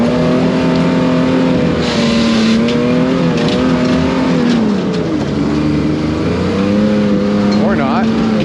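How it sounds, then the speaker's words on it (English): A 4x4 rock crawler rig engine strains up a steep trail climb, a loud close drone that rises and falls with throttle, with some voices audible over it. "So I gotta be able to drive up here like nothing too."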